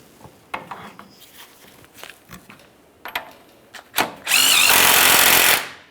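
The outer tie rod end nut on a 2015-2020 Cadillac Escalade is tightened. Several clicking and ratcheting clanks come first, then a loud power tool whirs steadily for about a second and a half before stopping.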